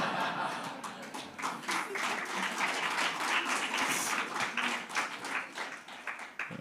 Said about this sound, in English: They are applauding the most